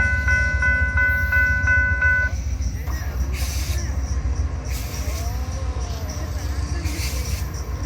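An Amtrak train passes an automatic railway gate at White Rock, opening with a sustained horn blast over a heavy, continuous rumble of rolling wagons, with faint voices and clanks in the background.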